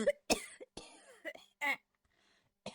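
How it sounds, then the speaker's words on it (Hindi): Several sharp, close coughs in separate bursts, with a short raspy throat-clearing sound between them and quiet gaps in between. "माँ रात भर खांसी करती रहती है।"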